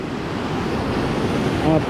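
Ocean waves break on a beach shore in a steady, close wash of surf, with wind noise buffeting the microphone throughout.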